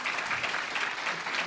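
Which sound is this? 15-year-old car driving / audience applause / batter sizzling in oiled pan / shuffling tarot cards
audience applause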